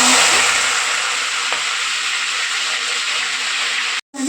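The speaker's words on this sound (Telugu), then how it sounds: "ఉల్లిపాయలు కూడా కొంచెం లైట్ ఫ్రై చేసుకున్నాము." Coarsely cut onions fry in hot oil in a pan with a steady, close hissing sizzle that continues without pause.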